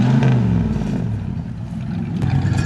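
A Ford LTD engine with a bad carburetor is revved up close, a loud steady low rumble that wavers and surges unevenly, sputtering as it strains for the whole stretch, with no talking.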